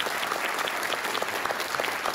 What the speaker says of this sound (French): Oui, vous pouvez l'applaudir encore, bien sûr.